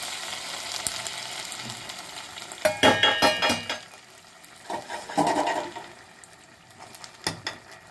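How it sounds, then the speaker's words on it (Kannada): Cooked split green gram, flattened rice (avalakki) and roasted peanuts are stirred together in a pan: scraping, rustling bursts of mixing come in uneven waves with quieter pauses between, close by and without talk. "ಸೊ ಒಮ್ಮೆ ಇದನ್ನು ಬೆರೆಸಿದ್ರೆ ಬೆಸ್ಟ್ ಇದೆಲ್ಲ ಒಂದು ಕಡೆ ಬೆರೆಸಿದ್ದೀನಿ"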